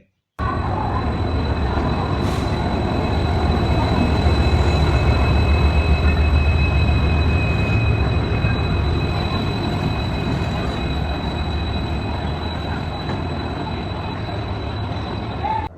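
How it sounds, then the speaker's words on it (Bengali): The Howrah Chakradharpur Express rolls into platform 19 at Howrah station late at night. A loud, continuous rumble of rail wagons carries thin metallic wheel squeals throughout. "নির্ধারিত সময় থেকে প্রায় এক ঘন্টা দেরিতে হাওড়ার উনিশ নম্বর প্ল্যাটফর্মে এসে হাজির হলো আমাদের ট্রেন"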